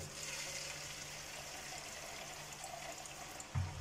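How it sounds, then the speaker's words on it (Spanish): Water poured into homemade liquid detergent made from bar laundry soap, adding half a litre to about five litres of mix; a steady, continuous pouring wash runs throughout, with a brief louder splash near the end. "Vamos a estarle agregando medio litro más de agua."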